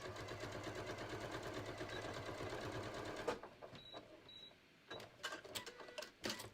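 A sewing machine stitches along the short edge of a pair of shorts in a fast, steady mechanical rattle for about three seconds, then stops; brief handling clicks and short bursts of noise follow.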